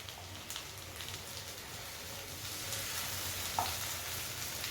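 Anchovies fry on a tawa with a soft, even sizzle like light rain, while a single brief clink marks a piece being turned near the end.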